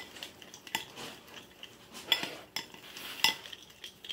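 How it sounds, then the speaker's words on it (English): Spoon stirring rib sauce in a crockpot, with metal scraping and clinking against the pot, a few sharper clinks standing out over soft, close, uneven stirring. "we're going to stir this with our spoon"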